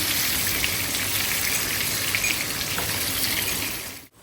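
Steady, dense sizzling of potatoes frying in hot oil in a home kitchen in Italy, continuous and close, cutting off abruptly near the end.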